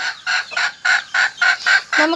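Chickens on a home poultry setup clucking in a quick, even series of about eight loud, close calls, alone and without talk.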